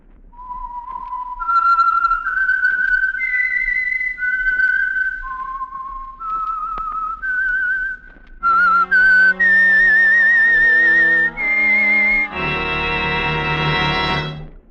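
Whistled theme for the Signal Oil radio program The Whistler, a lone melodic whistle rising and falling through a slow tune before orchestral chords swell in.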